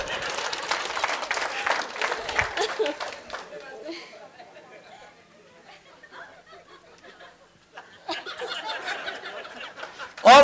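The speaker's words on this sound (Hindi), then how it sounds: "तालियां" An audience at a business talk bursts into applause amid chatter and chuckles, the clapping fading to a murmur of voices in the middle before a fresh wave of applause returns at the end.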